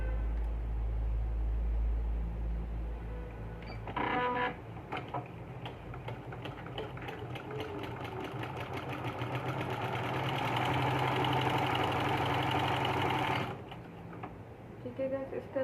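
A sewing machine stitches a baby yoke frock, running steadily with a fast mechanical ticking for most of the stretch and loudest near the end, with low hum underneath and a person talking over it.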